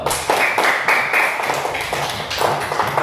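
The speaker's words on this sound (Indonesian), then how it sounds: "tepuk tangan dulu" Schoolchildren in a classroom clapping hands together on cue, a run of sharp, rhythmic clap bursts in a patterned beat, close and fairly loud.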